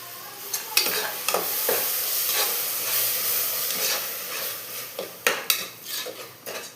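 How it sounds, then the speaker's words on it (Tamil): Ginger and small onions sauté in a pan for mushroom rice, giving a steady soft sizzle broken by repeated sharp scrapes and clinks of a metal spoon stirring against the pan, close and with no talking. "இஞ்சி, சின்ன வெங்காயம், இது எல்லாத்தையும் உள்ளே சேர்த்துடுறேன். இதோட பச்சை வாசனை போகிற வரைக்கும் நல்லா வதக்கணும்"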